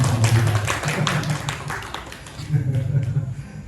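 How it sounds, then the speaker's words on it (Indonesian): Audience applause at a deep-learning teacher training sharing session, a dense patter of many hands clapping close by that thins and swells again, with a voice speaking over it. "Tepuk tangan di bawah untuk saya sendiri."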